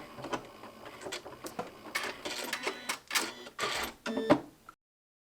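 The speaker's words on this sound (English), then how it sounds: "it was time to stitch out all 6 buttonholes" A domestic sewing machine stitches out a buttonhole, the needle rattling in quick mechanical bursts that pause and restart, close and fairly quiet, ending abruptly in silence.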